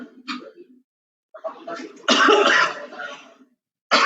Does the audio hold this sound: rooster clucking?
no